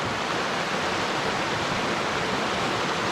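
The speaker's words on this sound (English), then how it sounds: "Yeah, this is the other creek." A small creek near Ljosanbotn rushes and splashes in a steady, continuous broadband wash, close and fairly loud, with no voices.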